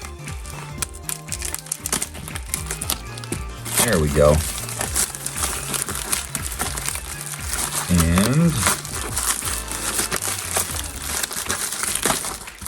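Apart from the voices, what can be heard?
opening a package with scissors, packaging crinkling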